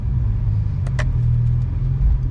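A BMW E92 335i with the N54 engine and aftermarket downpipes launching, a loud, steady low engine rumble heard from close by throughout, with a couple of brief higher clicks near the start.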